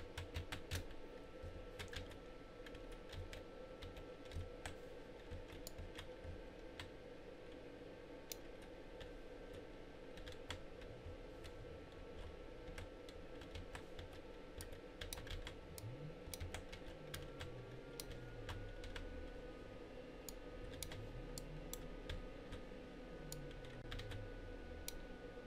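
Computer keyboard clicking and clacking steadily while Kerbal Space Program is played, quiet rapid taps over a constant low game hum, no voice.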